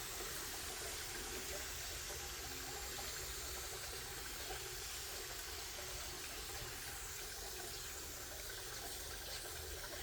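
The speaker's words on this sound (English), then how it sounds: "I'm going to give them a little bit of liquid here. And it's just rainwater." Rainwater poured into a worm bin: a steady, continuous watery pour runs evenly for the whole stretch at a moderate level, with no talking.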